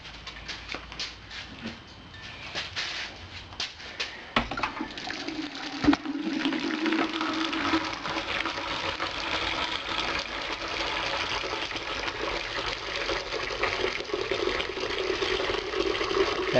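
Water draining steadily from a homebrew mash vessel fitted with a malt pipe and solid false bottom, a continuous splashing pour into a container lasting the whole stretch, with a few clunks and knocks early on.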